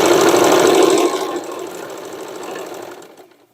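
A sewing machine stitches thick denim while making a jacket from old jeans, running loud and steady at first, then slowing into a quieter continuous whir before stopping.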